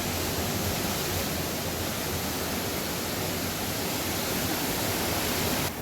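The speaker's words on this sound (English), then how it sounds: "The surf's really up this morning." Ocean surf breaks on a Hawaiian shore in a steady, loud wash of churning whitewater, a continuous broadband roar with no voices over it.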